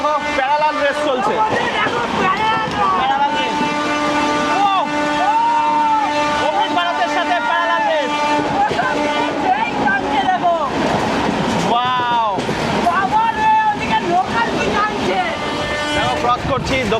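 Aboard the Amrit Bharat Express as it runs past Dum Dum Junction, a continuous rumbling rush of train noise mixes with wind buffeting, with shifting whining tones throughout.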